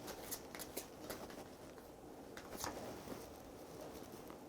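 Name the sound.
shuffling and drawing an I Ching card from a tarot deck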